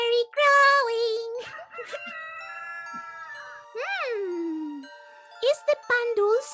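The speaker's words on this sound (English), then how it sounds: "St. Augustine's roosters are already crowing." Roosters crow in a drawn-out, rising and falling call, heard among other tonal animal cries and faint tinkling at moderate loudness.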